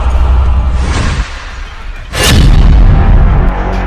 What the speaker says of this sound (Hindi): इसके गली के एक मुहाने पर खड़े इजराइल के मरकावा टैंक को यासीन रॉकेट से टारगेट किया जाता है